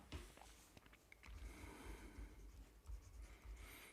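Marker or chalk writing on a board during a numerical analysis lecture on fixed point iteration, a steady scratchy scrawl with brief strokes and pauses, close and fairly quiet over low room rumble.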